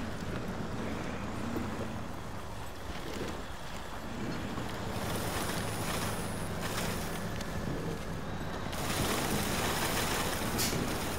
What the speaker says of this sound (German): Fahr wieder hier durchs Wasser